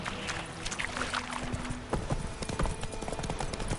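Horse hooves clip-clopping steadily in The Witcher video game, a regular close trot rhythm over ambient outdoor game sound.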